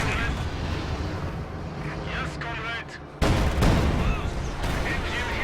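A field gun fires in a Soviet versus German tank battle video game, booming shots and blasts over constant battle noise, with a sharp loud report near the middle.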